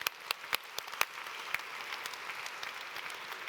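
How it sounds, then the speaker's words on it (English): A conference audience at an international economic forum on Africa gives a warm round of applause to departing speakers, steady clapping from a large crowd that sounds moderately distant and holds through without talk. "perhaps one last warm round of applause to them before they do leave us"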